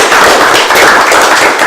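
Loud, close clapping from a debate audience about cucumber-style testing, a short dense burst of hand claps filling the whole moment without speech.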